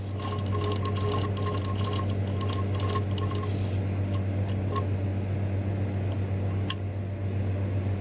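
A sewing machine head set on a table stitches steadily at a 0.25 stitch setting, a fast even mechanical clatter over a constant motor hum, running alone.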